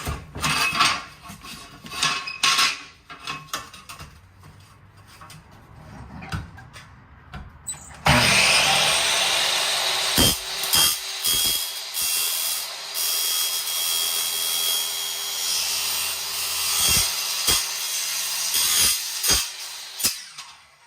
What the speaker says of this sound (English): this is a carbide tip blade, so even though it's technically woodworking, we believe it'll work just fine with soft aluminum